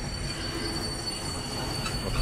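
Steady, loud rumble of a train rolling on rails in the horror game Husk, with a constant high metallic wheel squeal running over the low clatter throughout.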